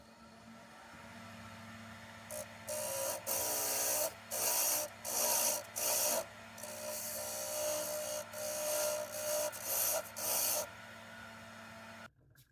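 Rough rasping cuts of a tool biting into a spinning laminated wood salt shaker on a lathe, in repeated bursts of a second or so, over a steady motor hum.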